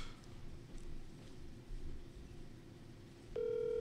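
A Discord call rings in, a steady electronic tone starting near the end after a quiet stretch of low room noise.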